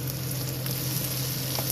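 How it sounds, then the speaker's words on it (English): Onions browning in a pan for biryani give a steady, close sizzle and crackle of frying with no voices. "Right, the onions are getting proper brown now, you can see."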